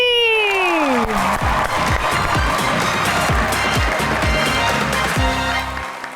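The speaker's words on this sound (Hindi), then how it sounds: "आप सबकी तालियों में तशरीफ़ लाते हैं" A studio audience at a comedy talk show claps and cheers as two guests are welcomed, a loud continuous roar of applause with musical tones and rhythmic thumps underneath, easing slightly at the close.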